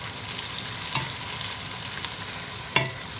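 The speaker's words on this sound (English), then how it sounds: "Pan's calmed down a bit, in with the garlic. And also, well, we'll give it a quick stir." Garlic fries in a hot pan for stewed spinach, a steady close sizzle with a few soft scraping knocks as it is stirred, no voices over it.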